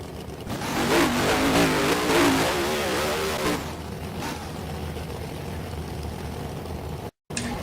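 A 1953 Corvette and a 2012 Camaro launch in a drag race at Perth Motorplex, engines roaring and revving hard for a few seconds before fading into the distance.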